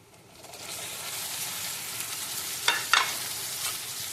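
Prawns frying in a pan for a traditional prawn curry with mustard and poppy seed paste. A steady oil sizzle runs throughout, with two sharp crackling spurts near the end and no talking.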